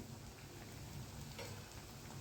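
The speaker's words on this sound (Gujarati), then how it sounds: "હવે જો હું આ કચોરી તરીશ." A single kachori is deep-frying in hot oil. The soft, even, continuous hiss and bubbling is faint and unbroken, with no voices over it.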